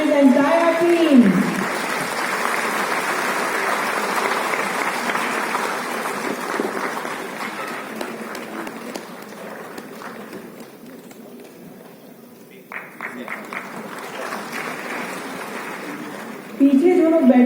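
An audience applauds at a foundation day award ceremony, dense sustained clapping that fills the hall, thins briefly toward the end, then swells again as a voice returns.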